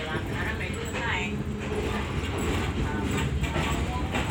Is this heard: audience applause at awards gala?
no